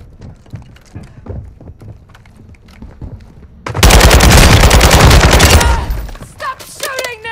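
Warzone 2 combat: quiet scattered shots and background noise give way to a loud, sustained burst of automatic gunfire lasting about two seconds, then a few fainter shots and mechanical sounds.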